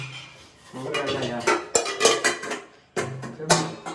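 Steel pots and pans clank and scrape together in a series of loud, irregular bangs, close by in a home kitchen, with brief pauses between bursts.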